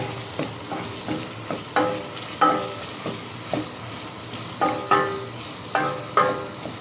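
Tomato paste, a heaping tablespoon, frying in a pan alongside cooking food, with a steady low sizzle broken by repeated sharp scraping stirs at an uneven rhythm, close and moderately loud with no talking.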